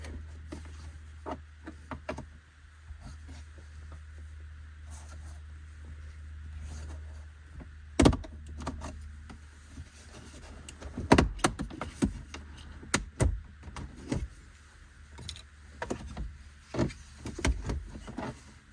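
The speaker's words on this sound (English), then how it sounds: "And then this silver trim should come out" Silver interior trim pried out of a Toyota RAV4 console, with faint plastic creaks and scattered sharp clicks and pops over a low steady hum, including a few louder snaps as clips release.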